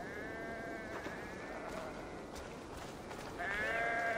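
Sheep bleat in the video game Assassin's Creed Valhalla, with drawn-out wavering calls at the start and a louder bleat near the end over a steady low game ambience.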